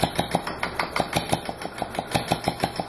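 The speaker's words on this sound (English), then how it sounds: "if you've ever heard an engine backfire in a regular car, that's because usually because the timing's off." A weed eater two-stroke engine converted to steam power runs with its timing off, giving a rapid, evenly spaced train of sharp chuffing pops and backfires, close and fairly loud, with no voices.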